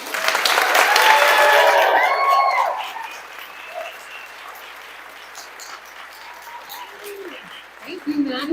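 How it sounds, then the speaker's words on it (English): Audience applause at a Pride storytelling night in a taphouse, loud and dense for about three seconds, then fading to scattered clapping and low crowd murmur, with some voices near the end. "Let's keep clapping for all our storytellers tonight."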